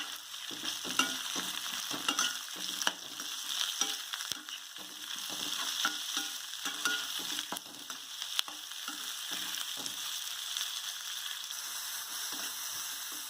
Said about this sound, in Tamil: வெங்காயம் கொஞ்சம் வதங்கினதும் நறுக்கி வச்ச தக்காளியை போட்டு வதக்கிக்கிடணும்